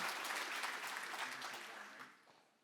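An audience at an annual conference session claps for a presenter, a brief burst of fairly distant, steady applause that fades out toward the end.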